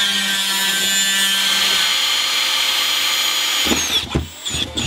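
A power drill whirs steadily while drilling holes for a camper fireplace install, a loud continuous whine that stops near the end, followed by a few clunks and handling knocks.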